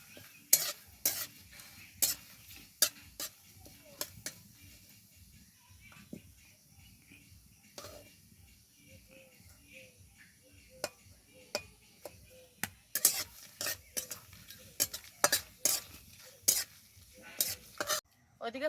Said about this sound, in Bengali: ওইদিকে ফোড়নটা ভাজা হচ্ছে